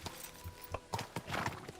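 Horse hooves clip-clop in a video game, a short uneven series of light, close footfalls over faint background game ambience, with a brief neigh-like sound mixed in.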